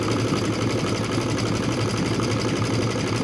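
A sewing machine stitching craft twine runs in a steady, close, fast mechanical chatter that never pauses, with no voices over it.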